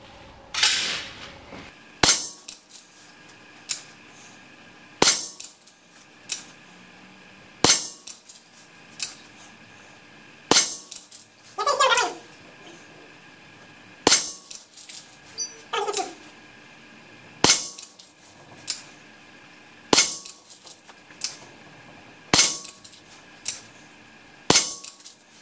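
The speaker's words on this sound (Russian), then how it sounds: "во время выстрела я чуть сильнее нажал на спуск, и пуля прилетела в точку прицеливания" A rifle fired from the prone position with no rest bag, about a dozen sharp, loud reports spaced a couple of seconds apart across the span, with faint rattling between shots and no talking.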